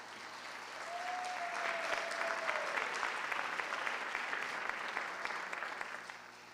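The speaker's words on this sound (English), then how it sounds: "Let's give another round of applause to Kathy Hilton" An audience at a school district education awards ceremony applauds steadily for several seconds, a dense clapping that swells then slowly fades, with a brief tonal whistle or feedback early on.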